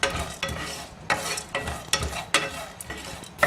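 Cloves, cardamom, cinnamon, green chilli, cashews and poppy seeds dry roast in a pan, with repeated scraping stir strokes at a steady rhythm and a light sizzle, close and moderately loud with no talk.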